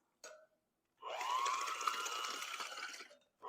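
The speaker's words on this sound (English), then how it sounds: "I'm just going to use my little hand mixer for this." A small electric hand mixer whirs steadily for about two seconds, beating a creamy dough of pumpkin, peanut butter and eggs, close and fairly loud with a slight rising pitch, bracketed by brief clicks before and after.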